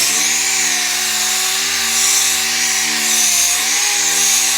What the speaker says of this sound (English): 320 on the whole pillar to just refine the sand scratch